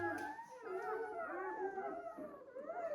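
Close, sustained shepherd dog howling, one long wavering cry sliding up and down in pitch without pause.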